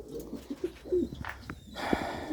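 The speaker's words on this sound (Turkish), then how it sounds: "Bizim engelli güvercin." A pigeon coos softly several times in short, throaty bursts, close by in a quiet room with faint rustling between the calls.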